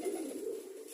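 Pigeons cooing as a soft, steady low murmur, fairly faint and continuous throughout.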